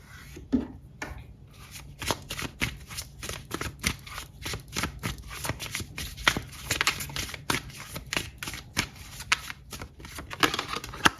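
A deck of tarot cards is shuffled close up, a rapid series of crisp riffling bursts and soft slides repeating across the whole stretch, with no voices.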